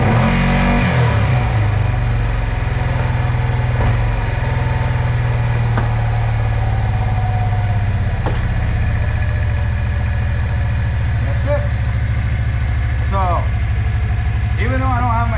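A Kawasaki Teryx 4 side-by-side with an upgraded ECU starts with a brief crank, then settles into a loud, steady engine note with a few short revs, a voice talking over it.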